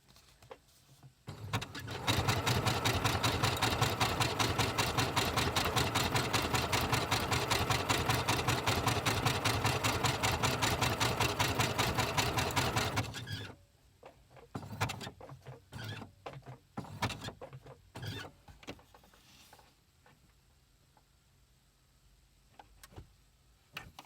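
A sewing machine stitches a felt needlebook in a fast, loud, even mechanical whir lasting about eleven seconds, then stops, followed by a series of short bursts of stitching and clicks as the fabric is turned.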